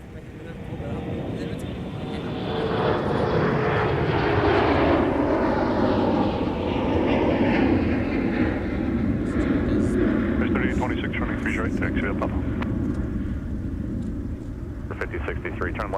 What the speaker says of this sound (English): Here's our Endeavor CRJ flight off to Des Moines, Iowa